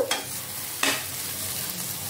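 Egg crumbs frying in a pan for egg fried rice without sauces: two short scraping stirs of a spatula over a soft, continuous sizzle, close up and moderately quiet.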